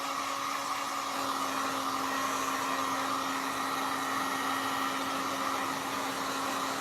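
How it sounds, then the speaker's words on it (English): A blow dryer drying product on a canvas gives off a steady, continuous whirring roar with a faint hum underneath. It runs close and alone, unchanged from start to finish, with no talking. "let me dry this"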